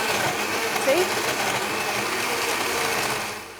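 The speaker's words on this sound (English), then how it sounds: "That's going to go straight into our blender. And we'll give it a quick mix." A kitchen blender whirs steadily, blending oats for a breakfast smoothie in one continuous loud run that fades near the end, with a brief spoken word over the motor.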